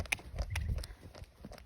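A 15.2-hand off-the-track Pacer mare walking under saddle gives a few soft, uneven hoof clip-clops at close range over low background noise.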